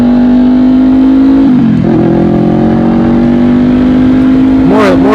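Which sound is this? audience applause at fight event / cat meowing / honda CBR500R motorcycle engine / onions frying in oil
honda CBR500R motorcycle engine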